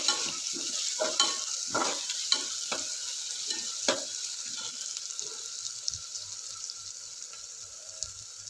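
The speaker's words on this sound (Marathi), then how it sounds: "टमाटा पटकन शिजण्यासाठी आपण पाव चमचा मीठ घालतोय।" Tomatoes fry with salt in a pan while a spoon stirs them, making a constant soft sizzle under scattered scraping and clinking strokes that come close and clear, then thin out toward the end.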